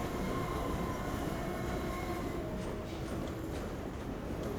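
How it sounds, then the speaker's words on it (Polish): A train rolling past overhead in the video game Half-Life 2, a loud, continuous rumble of heavy wheels and carriages that fills the whole stretch without a break. "chyba nade mną coś... Jakiś pociąg chyba"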